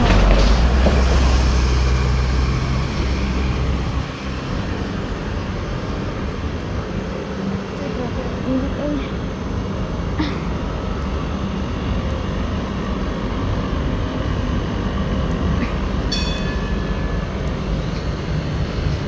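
A train bound for Chunmon rolls along with a steady, loud low rumble and broadband rushing noise, close and continuous, with a few faint squeals and clanks near the end and no voices.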